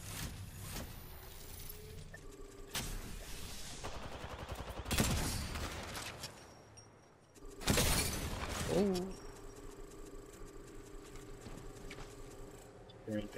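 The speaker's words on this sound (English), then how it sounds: "Why is this guy just going for sentinel shots?" Sentinel sniper rifle shots in a video game ring out as a few sharp, spaced cracks among other in-game noises, with people talking over the action.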